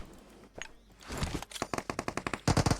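Rapid automatic gunfire in an online shooter game rattles off in quick bursts, a steady stream of sharp shots building to a dense, loud volley at the end.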